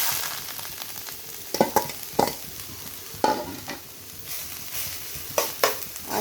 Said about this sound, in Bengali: ঘি দিয়ে কিন্তু একটু ভেজে নেব